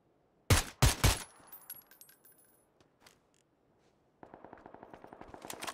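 Gunfire in the video game PUBG: a loud burst of three heavy shots up front, then a quiet gap with faint clicks, followed by a rapid automatic rattle of many evenly spaced shots building toward the end.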